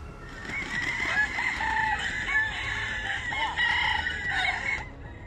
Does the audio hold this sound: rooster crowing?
yes